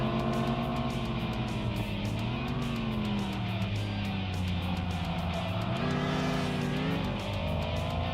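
Race car engines from Kaido Racer hold steady sustained notes, including the F2 car, with pitch rising and falling as they rev through hairpins and shift gears, loud and continuous throughout.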